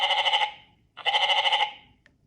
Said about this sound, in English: Mountain goat.